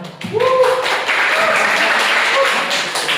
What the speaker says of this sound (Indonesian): Aplaus buat 3 orang.